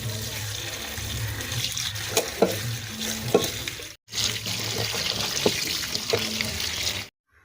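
Pumpkin greens are rinsed under running water, a steady splashing stream with clattering handling and brief interruptions, ending abruptly.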